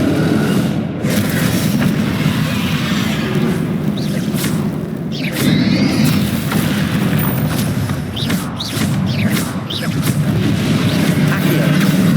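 Fiery Confringo blasts erupt in Hogwarts Legacy combat, a run of booming bursts over a dense, rumbling battle din with frequent sharp cracks, while a voice calls out in the background.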